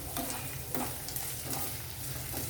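Carrot, capsicum, chilli, ginger and onion strips sizzle and fry steadily in a hot pan for Chinese veg fried rice, with a dense continuous crackle and occasional stirring scrapes, close and alone.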